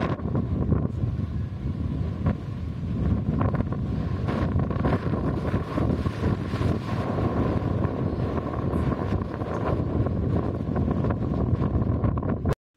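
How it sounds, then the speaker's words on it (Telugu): Heavy wind buffets the microphone on top of Appikonda hill, a loud, continuous roaring rush for the whole stretch with no voices. "పైన హెవీ విండ్ ఉందండి."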